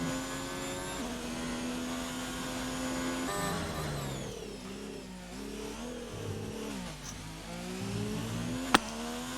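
Race car engines from the racing video game Total Impact Racing, a steady droning whine that shifts pitch as revs rise and fall, with one sharp click near the end; no talking.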